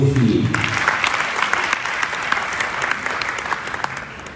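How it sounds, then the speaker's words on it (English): A lecture audience applauds steadily, a loud, continuous wash of clapping, with a voice audible briefly at the start. "Please applaud Dr. Akuffo."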